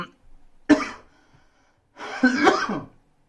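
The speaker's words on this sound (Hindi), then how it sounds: "ये कोरोना वाली खांसी नहीं है बच्चों ये ठंडे पानी वाली खांसी है" A sharp single cough, then a pause and a longer rough throaty cough with a breathy tail, close and fairly loud.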